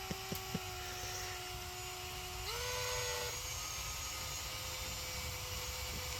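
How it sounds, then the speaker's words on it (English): A steady mechanical whine of a drill runs throughout, shifting pitch midway as it bores, faint and continuous with no talking. "Now she's drilling a hole to put the sticks in."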